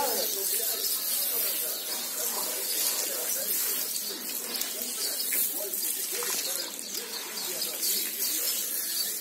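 Shower water runs in a steady, close, broadband hiss of spray that continues without a break.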